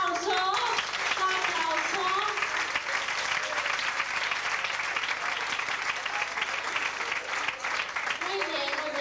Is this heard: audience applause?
yes